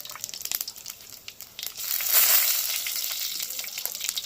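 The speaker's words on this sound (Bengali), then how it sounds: "তেল দিয়ে এবার দিয়ে দেবো পাঁচ ফোড়ন আর তেজপাতা এটা ফোড়নে যাবে" Panch phoron spices and bay leaves crackle and sizzle in hot oil, a dense high hiss that swells sharply partway through and holds steady, close and fairly loud with no voices.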